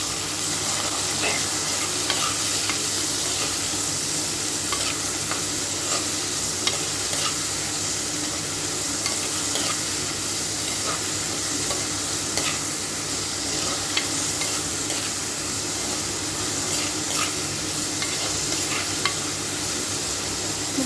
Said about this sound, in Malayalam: പച്ച ചെമ്മീൻ അത് ഇട്ട് കൊടുക്കാം ഇപ്പോൾ ഒന്ന് വഴറ്റി കൊടുക്കണം കേട്ടോ